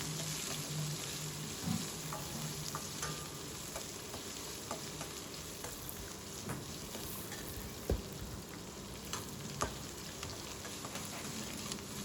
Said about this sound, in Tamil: நல்லா ஒரு நிமிஷம் நல்லா வதக்கி கொடுத்துக்கலாம்